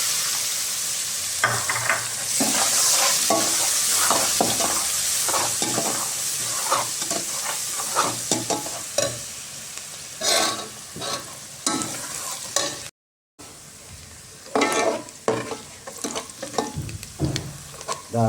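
Finely chopped onion frying in oil with cumin and curry leaves for Kolhapuri misal, loud hissing sizzle with repeated scraping strokes of a spoon against the pan, briefly cut off near the end.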